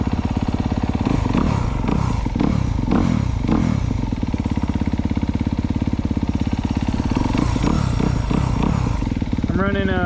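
Dirt bike engine running on VP Racing T4 fuel with a stock ECU, idling steadily close by with a rapid, even putter and some clattery thumps, while someone talks over it.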